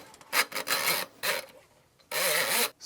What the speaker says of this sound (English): the action of the cable against the pipe is going to be cleaning the drain